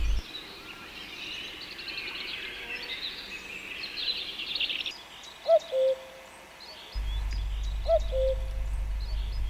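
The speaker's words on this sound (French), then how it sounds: "Qui ne connaît pas ce chant d'oiseau?" Birds sing in the Vosges forest in spring, with one clear repeated whistled call near the middle and softer chirps around it, set against a quiet woodland background and a low rumble that comes and goes.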